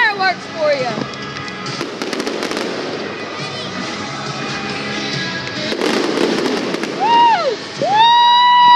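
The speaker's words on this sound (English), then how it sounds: "This is Greenville Drive fireworks for you." Fireworks display at Greenville Drive: dense crackling bursts and booms fill the scene, with whistling rockets rising near the end, while a crowd cheers and a person shouts over the loud, continuous barrage.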